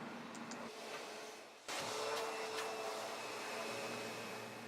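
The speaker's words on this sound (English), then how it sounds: "use your backpack vacuum to suck up the debris" A backpack vacuum runs steadily, sucking debris from the underside of a cleaning machine: a continuous whining motor drone that surges louder partway through and holds, with some faint rattling of debris.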